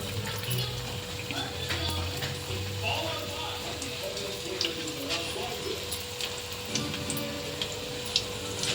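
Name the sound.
oil heating and sizzling in a frying pan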